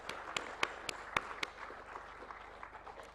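Faint applause at a faculty laptop distribution ceremony, with a few distinct, sharp claps standing out over a soft, scattered patter from a distant audience.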